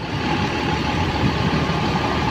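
A bus sits idling in a steady, loud rumble at Bareh Solok bus terminal after a long trip from the rantau, the engine noise continuous and close without any voices.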